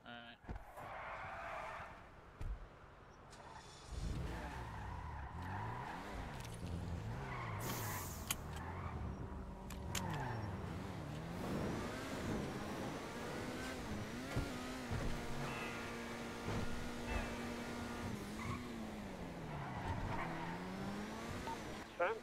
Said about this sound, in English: I'm driving Frank's red Ferrari